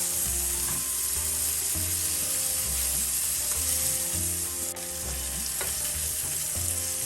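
Steady, close sizzle of chicken shallow frying in a pan over a medium flame, with repeated low scrapes and knocks of a spatula or pieces being moved throughout.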